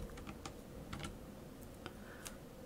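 Quiet computer keyboard typing, a handful of light close key taps in short bursts over a soft background hum, with no talking.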